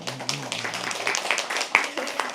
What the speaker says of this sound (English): Can we please have an applause for all 4 of them for sharing?